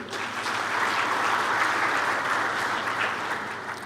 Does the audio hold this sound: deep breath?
no